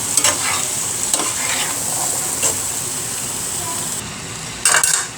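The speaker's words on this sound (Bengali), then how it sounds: "কেটে রাখা আলু আর ডাটা দিয়ে দিব ভালো করে মিশিয়ে নিব" Potatoes and drumstick stems fry in a pan, a constant bright sizzle, while a utensil stirs with several sharp scraping strokes and a louder clatter near the end.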